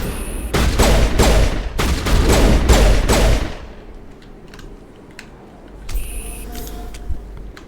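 Rapid, loud gunshots in the Mass Effect game ring out in a tight volley for about three seconds, then give way to quieter ambience with a few faint, scattered shots.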